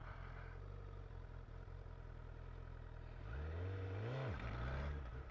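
A Honda liter-class motorcycle idles with a low, steady engine drone, then revs up sharply and falls back during a wheelie attempt, faint and somewhat distant.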